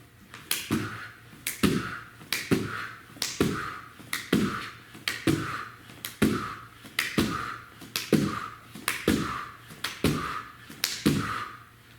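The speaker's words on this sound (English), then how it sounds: "Clapping push-ups. Get 12." Sharp, bright claps repeat in a steady rhythm about once a second, a dozen or so in a row, as hands smack together between clapping push-ups in an adult fitness class; close and fairly loud with a low hum underneath and no talking.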